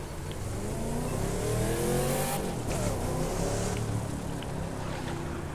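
An older car's engine in the video game The Crew 2 drones and revs up, swelling to a louder roar before settling back to a steady hum, with no talking.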